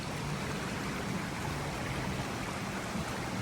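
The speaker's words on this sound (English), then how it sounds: "That water's flowing pretty good across the bridge." Water flows steadily across a bridge toward waterfalls at Copper Creek Falls, a broad, continuous rushing wash heard at moderate distance with no voices.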